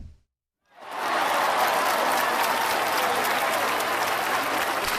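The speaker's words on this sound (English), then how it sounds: "I'm literally, I have an effect board. I'm doing it myself." Canned applause fired from an effect board during a talk show bursts in after a brief silence, a dense, even wash of crowd clapping that holds at a constant level to the end.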